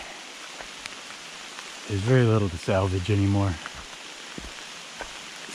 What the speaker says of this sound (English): It's quite the downpour.